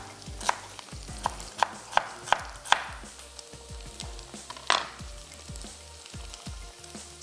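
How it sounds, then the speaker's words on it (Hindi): Beef and vegetables stir-frying in a pan, a steady close sizzle broken by sharp clacks and scrapes of a spatula tossing the food, with no talk. "जब आपका बीफ डन हो जाए तो आप इसमें कुछ मिनट्स पहले वेजिटेबल्स ऐड कर दें और दोनों चीज़ें साथ में फ्राई हो जाएंगी"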